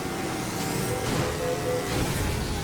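Racing car engine in the PS2 game Midnight Club 3, a dense continuous roar with rising tonal whine as it accelerates, loud and steady throughout.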